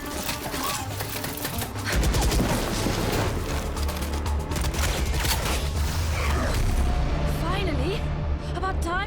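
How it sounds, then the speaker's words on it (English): Dense gunfire from the game Valorant, heard during a Sentinels versus FNATIC esports match at VCT Masters Reykjavík, rattles in rapid bursts under loud continuous talk and cinematic rumble. "We're picking up gunfire."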